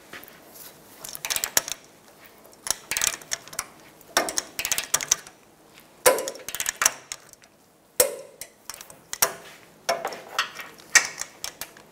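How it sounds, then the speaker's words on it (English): Torque wrench ratcheting on rear bumper bolts of a 2007-2014 Chevrolet Silverado 2500 HD, repeated bursts of close mechanical clicking separated by short pauses. "These two rear bolts, we're going to torque these to 103 foot-pounds."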